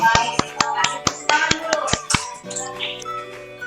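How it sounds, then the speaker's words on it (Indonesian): A short burst of scattered hand clapping from a few people in a classroom lesson, sharp uneven claps over about two seconds, fading into a sustained tone. "Tepuk tangan dulu"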